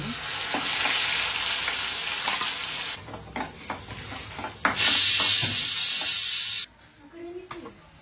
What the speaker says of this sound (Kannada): ಜೀರಿಗೆ, ಸಾಸಿವೆ, ಇದು ಆನಿಯನ್ ಪೇಸ್ಟ್ ಹಾಕ್ತೀನಿ.